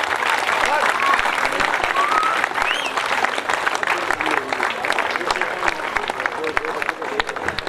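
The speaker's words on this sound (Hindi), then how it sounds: "तालियां लगातार बजती रहनी चाहिए।" Sustained crowd clapping at a cricket league final on a local ground, a loud, even patter of many hands kept up throughout, with whistles and scattered voices woven through it.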